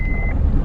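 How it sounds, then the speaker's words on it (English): A car's seatbelt warning chime gives a single short electronic tone over low engine and road rumble, the vehicle moving on a rough dirt jeep trail. "the car's yelling at me, no seatbelt."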